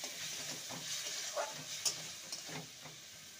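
Spices for a taro root and prawn curry fry in a pan with a soft, continuous sizzle, broken by occasional scrapes and taps of stirring, all fairly quiet and close.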